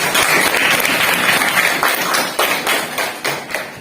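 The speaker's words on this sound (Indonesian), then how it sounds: "Kasih aplaus untuk kelompok 1." Applause for group 1 in a classroom, a crowd of students clapping steadily and fairly loud, with scattered sharp claps throughout.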